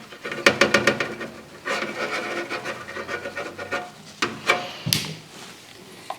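Static grass shaken from a container over glued patches of model railway scenery, heard as a run of soft, close rustling and rasping bursts in uneven rhythm, with a few sharper taps near the end.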